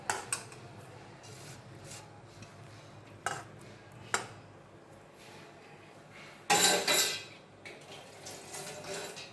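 Ingredients are stirred and mixed by hand in a steel vessel as turmeric and salt masala goes into raw mango pickle, with soft scraping, a few taps and a burst of rubbing, close and quiet.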